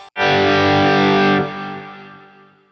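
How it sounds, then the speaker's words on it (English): A single distorted electric guitar chord rings out loudly, sustains, then drops and fades into a lingering reverb tail. "strum a chord at the end of the song and click on a reverb"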